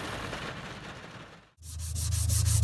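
A sailboat hull is sanded by hand, first a soft steady scrubbing, then after a brief pause a louder, faster run of rhythmic back-and-forth rubbing strokes.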